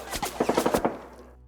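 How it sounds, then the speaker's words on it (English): A submachine gun sound effect in a tabletop wargame battle narration, a short burst of about six rapid loud shots with a brief tail, close and with no talk. "who fire with their SMGs first"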